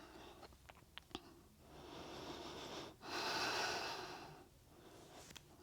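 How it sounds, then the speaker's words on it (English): Rhythmic breathing during a yoga exercise: a few short sharp nasal exhales at the start, then long, loud, airy inhales and exhales heard close up, with no talk. "Inhale 5. Exhale 5. Keep going."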